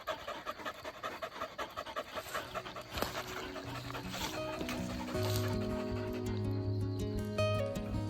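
A dog pants steadily and rhythmically close by, quick breaths in an outdoor woodlot setting with tractor and firewood work, while tonal machine or animal sounds rise in the background toward the end.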